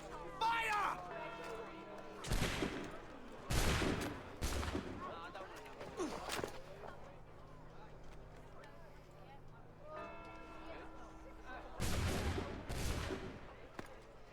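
A musket volley in Assassin's Creed, with several sharp gunshot bursts set apart and a second later volley, loud against steady background rumble and game voices.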